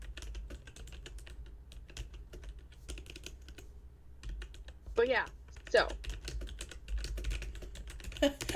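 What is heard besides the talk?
typing a character's name on a computer keyboard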